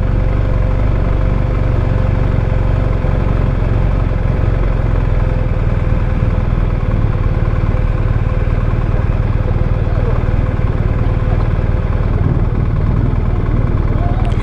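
A BMW RT motorcycle engine runs steadily at a cooling pace near a riverside quay, a loud continuous low drone with a faint steady hum throughout.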